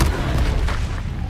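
A fire spell, Incendio, is cast in the video game Hogwarts Legacy, giving a loud, sustained booming burst with a rumbling low roar that fills the whole moment, no voices over it.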